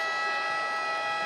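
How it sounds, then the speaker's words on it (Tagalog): A long arena horn sounds at a TNT vs. San Miguel PBA Philippine Cup Finals basketball game, a loud steady buzzing tone held without break. "Mahabang sirena."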